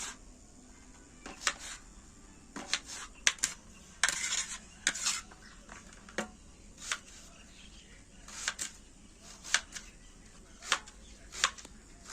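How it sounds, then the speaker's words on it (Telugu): Knife cutting onions at home, sharp irregular chops and clicks on a board, loud and close, separated by quiet gaps. "చూడండి ఫ్రెండ్స్, మా అన్నయ్య ఆనియన్స్ కట్ చేస్తున్నాడు"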